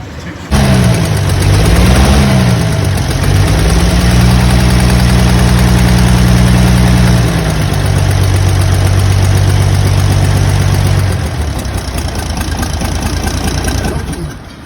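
A tractor engine runs loud and close just after a cold start, holding a steady, slightly uneven idle with a few shifts in pitch before it settles.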